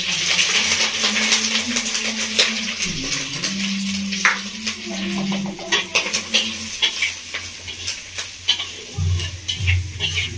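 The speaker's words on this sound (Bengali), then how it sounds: "তো এই আলু ভাজা তেলের মধ্যে আমি মাছগুলোকে ভেজে নেবো।" Prawns frying in hot oil in a pan with potato-fried oil, a steady bright sizzle with stirring clatter and small scraping knocks throughout, close and loud.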